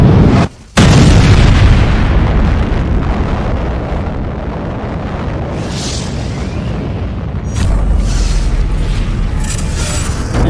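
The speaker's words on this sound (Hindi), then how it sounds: "एक न्यूक्लियर बम और पूरा शहर एक पल में खत्म।" A huge explosion, presented as a nuclear bomb detonation, gives a loud sustained roaring boom after a brief silent gap and then rumbles on continuously with a second surge, dense and close, with no talking.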